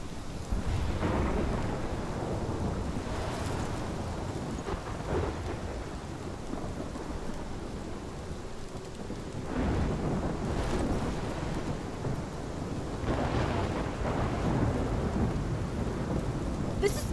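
Thunderstorm in the game Life is Strange, with steady heavy rain and wind throughout, broken by several rolling thunder rumbles swelling at intervals, loud and close with no voices.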